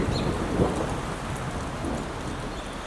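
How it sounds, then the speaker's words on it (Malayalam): Light rain falls during a thunderstorm: a steady, close wash of rainfall patter with low rumbling underneath, continuous throughout and with no voices. "ഭയങ്കരമായിട്ട് ഇടി വെട്ടുന്നുണ്ട്"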